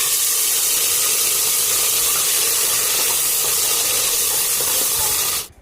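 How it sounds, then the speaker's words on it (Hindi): Tomatoes and green chillies hitting a hot pan of cumin give a steady, loud broadband sizzle that holds evenly throughout and then cuts off abruptly at the end, with no talking. "उसके बाद मैं इसमें डाल रही हूँ टमाटर और हरी मिर्च"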